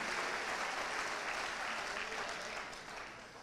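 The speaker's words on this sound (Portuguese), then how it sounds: "pode dar uma salva de palmas" Church congregation applauding during a sermon, a dense wash of many clapping hands at moderate, slightly distant volume that holds steady and then gradually fades toward the end.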